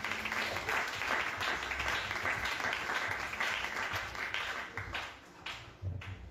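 Church congregation applauding and cheering to acclaim the Lord at a New Year's prophecy night service, a dense, sustained wash of clapping from a large crowd that fades slightly near the end.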